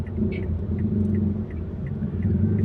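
Road traffic at a traffic circle rumbles steadily in a continuous low wash of passing vehicles, with no talking.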